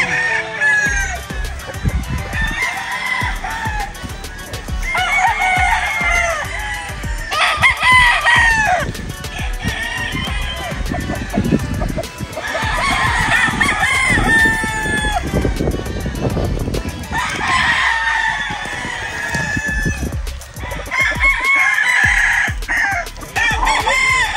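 Roosters and chickens at a farm in Norzagaray, Bulacan crow repeatedly in long, loud calls one after another, with clucking between them and people talking in the background.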